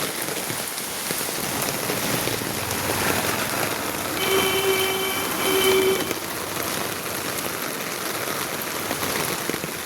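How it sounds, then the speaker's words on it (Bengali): Steady rain falls in a constant hiss of drops on hard surfaces, with a brief faint tonal hum in the middle. "বৃষ্টি নেমে গেছে তো।"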